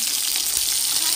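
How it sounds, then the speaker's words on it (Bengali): Pabda fish frying in oil for a curry with winter spring onions and new potatoes, a steady broadband hiss and crackle of spattering oil throughout, close and continuous. "পাবদা মাছ তো একটু তেল ছিটে আর কি"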